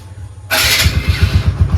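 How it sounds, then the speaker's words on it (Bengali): A 2018 TVS Apache RTR 160 at a second-hand bike market fires up with a sharp burst after a moment of quiet, then settles into a close, rhythmic, chugging idle. "গাড়ি একবার স্টার্ট করে আমি ইঞ্জিনের সাউন্ডটা শুনি।"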